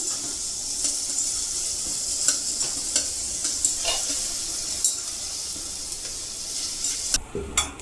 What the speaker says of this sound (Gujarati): ગોલ્ડન કલરની થાય ત્યાં લગી આપણે એને સાતળશું।